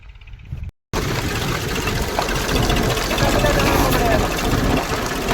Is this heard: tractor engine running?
yes